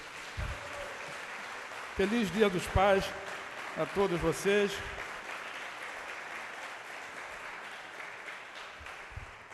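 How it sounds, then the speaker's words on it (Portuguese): Church congregation at an evening service clapping, a soft, diffuse spread of applause running beneath a preacher's amplified speech that rises briefly over it. "dê um forte aplauso a Jesus nessa noite"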